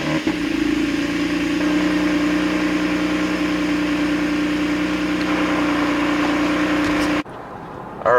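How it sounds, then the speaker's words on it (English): A 2021 Toyota Camry TRD with a TRD catback exhaust cold-starts and settles into a loud, steady, raspy idle close by, then cuts off abruptly near the end. "it does have a TRD catback exhaust, as you heard just previously to me talking on a cold start"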